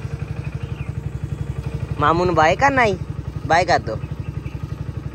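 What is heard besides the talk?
motorcycle engine running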